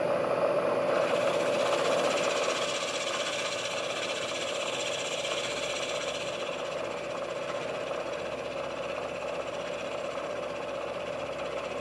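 A metal lathe or mill turns an outside diameter with an endmill held in a boring head, a steady mid-pitched machine drone with a continuous cutting whine throughout, no voices.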